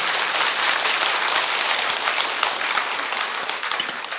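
An audience claps at a special Buddhist dharma assembly at Beomeosa temple, a dense, even wash of applause held at steady loudness throughout.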